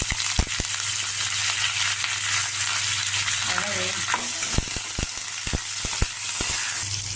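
Asafoetida, curry leaves and green chillies frying in hot oil, a loud continuous sizzle with sharp crackles and pops scattered throughout.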